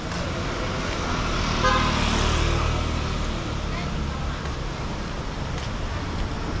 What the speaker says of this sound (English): this car's coming